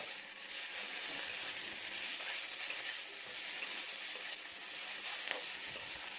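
Chopped tomato sizzles steadily in a hot pan for egg masala as it is stirred, a dense, even crackle with small pops throughout and no talking.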